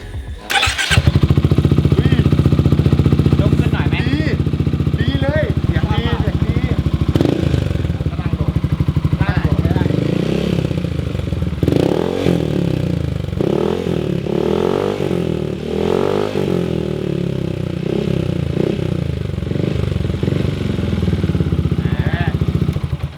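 Yamaha XMAX scooter fitted with an aftermarket Daivo exhaust, idling loud and close with a rough, throbbing note, then revved a few times with rising and falling pitch, with occasional speech underneath.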